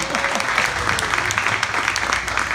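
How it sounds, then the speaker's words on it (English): Seminar audience gives a round of applause to a motivational speaker, brisk continuous clapping at close range, loud and steady with occasional louder hand strikes standing out. "Everybody, a round of applause for Stephen V. Richardson."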